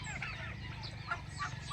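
Domestic turkeys on a Filipino farm, clucking and warbling calls close by over a low steady background hum, several overlapping birds in a short continuous stretch without speech.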